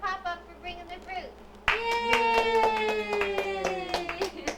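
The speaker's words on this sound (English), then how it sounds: "Let's clap for Pop-Up for bringing the fruit" A family claps their hands together at home, a burst of brisk, overlapping applause that starts suddenly and keeps going, with a child and adults cheering and calling out over it.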